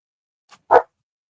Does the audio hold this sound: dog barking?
yes